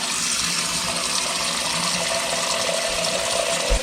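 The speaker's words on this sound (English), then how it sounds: "I'm gonna go ahead and run cold water into the sink" Cold tap water runs steadily into a kitchen sink, a continuous close hiss and splash with a brief knock near the end and no talking.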